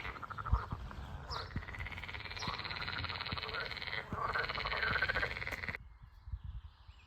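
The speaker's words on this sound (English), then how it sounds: "Do you hear the frogs?" Frogs croak in a steady pulsing chorus at a calm rural spot in Lithuania, rhythmic calls repeating at a moderate distance before the sound cuts off near the end.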